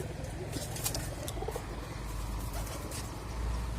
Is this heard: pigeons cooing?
yes